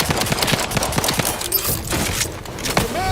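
Rapid gunfire in the video game The Outer Worlds 2, bursts of automatic shots in quick succession with sharp cracks, loud and close throughout.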